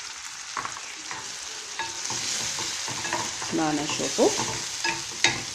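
A few small tomatoes fry in a pan for eggplant stuffed with minced meat, making a steady sizzle with occasional stirring clicks and scrapes while someone briefly speaks over it.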